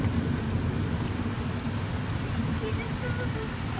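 Steady rain falls in Palampur, a dense continuous hiss with low rumbling beneath it, holding an even level throughout with no distinct drops standing out.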